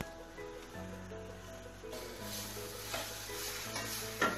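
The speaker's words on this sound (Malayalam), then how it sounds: "നന്നായിട്ട് മിക്സ് ചെയ്തെടുക്കാം." Minced chicken is stirred into sizzling masala in a pan for a chicken petti snack, giving a continuous close frying sizzle with scraping stirs and a sharper clink at the end.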